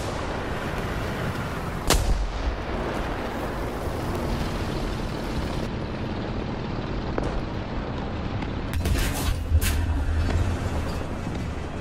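Tank cannon fire in War Thunder, with a sharp booming shot near the 2-second mark and a second burst of blasts around 9 to 10 seconds, set over a steady rumbling engine and battlefield background.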